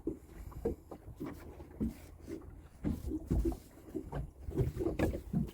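A motorboat runs at full throttle on the Ohio River in a strong 20 mph wind, its steady engine drone mixed with buffeting wind noise on the microphone and water sounds, continuous and close.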